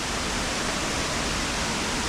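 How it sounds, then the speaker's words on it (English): Steady broadband roar of Suwat waterfall in Bali, a dense continuous rush of falling water heard up close and loud throughout, with no talking. "So this is how Suwat Waterfalls look like."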